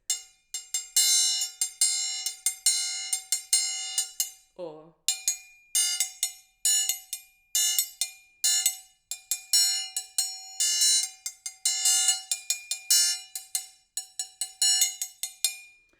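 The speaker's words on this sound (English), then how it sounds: "play rhythmic cells with both your left hand and your right hand through opening and closing the triangle" Triangle struck in a steady rhythm while the left hand opens and closes around it, so bright ringing strokes alternate with choked, damped ones; a short spoken word interrupts briefly near the middle.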